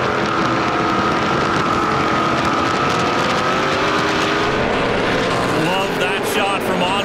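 NASCAR Pinty's Series stock cars, a pair of Fords among them, race nose to tail at the Velocity Prairie Thunder 250, a steady loud engine roar sustained throughout beneath continuous commentary.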